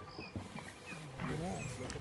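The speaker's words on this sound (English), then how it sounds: "eventually there must have been 9, 10, 11 hyenas all around, all trying to get a piece of this impala carcass" Spotted hyenas, around nine to eleven of a clan, tear apart and devour an impala carcass outdoors, giving overlapping whoops, growls and squeals with feeding noises, mid-distance and moderately loud.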